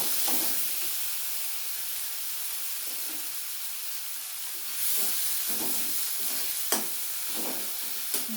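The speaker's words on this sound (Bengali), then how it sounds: "মশলাটা আমার বেশ ভাজা ভাজা হয়ে গেছে।" Spices with a little dry red chili powder being fried and stirred in a pan for a vegetarian green banana curry, producing a steady close hiss and sizzle with occasional scraping stirs.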